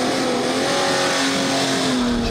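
A race car engine drones at high, steady revs during a lap-timing track session, loud and continuous for a couple of seconds before easing slightly at the end.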